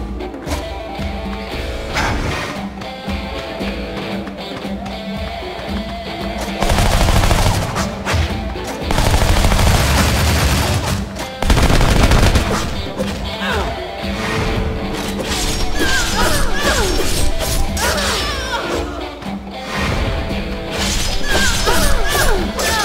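Rapid Uzi submachine gun bursts in the video game Shank, with crashes and impacts over a busy, loud mix of game sounds.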